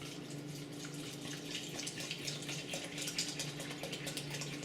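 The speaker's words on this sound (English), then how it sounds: "Okay, so you're going to put enough water in here now" Water pours steadily from a tap into a pot of organic brown rice, a continuous close-up splashing gush that stays alone and even throughout.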